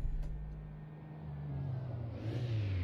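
A Renault Logan engine in the City Car Driving simulator game turns over and settles into a steady low idle, then revs up briefly near the end.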